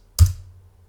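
A single short keypress on a computer keyboard while entering a Linux terminal command, one close, crisp tap with a soft thud that quickly fades into quiet.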